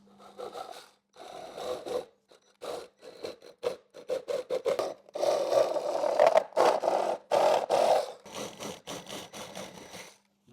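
A saw trims the fairing of a 2008 Harley Davidson Ultra to fit a speaker, in short rasping, whirring bursts that stop and start, close and fairly loud, with no talk.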